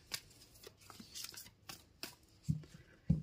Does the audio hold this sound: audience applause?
no